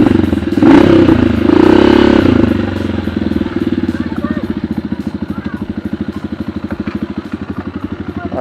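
A trail motorcycle on a steep, overgrown climb at Purok Tunnel, San Jose, Occidental Mindoro, revs hard for a couple of seconds, then drops to a loose, pulsing idle with a fast, even beat. The engine sounds close.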